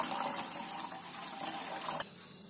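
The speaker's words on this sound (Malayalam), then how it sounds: "വെള്ളം നന്നായി തിളച്ചിട്ടുണ്ട്." One litre of water heating in a pot to a full boil gives a soft, continuous bubbling and hissing, close and fairly quiet, running unbroken before dropping slightly near the end.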